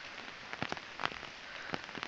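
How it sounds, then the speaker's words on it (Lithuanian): Rain falling steadily outdoors at a rural homestead, a soft continuous patter with scattered louder drops close by, fairly faint and with no voices. "nes lyja"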